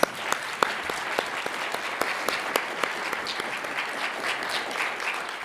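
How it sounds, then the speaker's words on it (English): Audience at a chamber of commerce breakfast applauding together, a steady wash of many hands clapping at close range with a few sharper individual claps standing out. "round of applause for Jesse"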